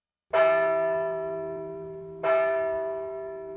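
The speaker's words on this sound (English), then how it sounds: "Suddenly, some bells began to ring." Two deep, resonant bell strikes about two seconds apart, each with a bright ringing onset and a long, slowly fading hum, heard alone against silence.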